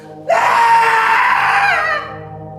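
A sustained, high, piercing scream from a person crying out in a Japanese horror film. It starts abruptly, holds loud and close for nearly two seconds, then cuts off into a quieter background.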